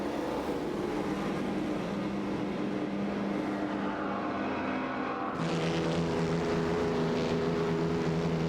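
Race cars in a racing video game roar steadily through the turns, a dense, continuous engine drone with a sudden shift in tone partway through as the cars change gear or position, loud and unbroken with no talk.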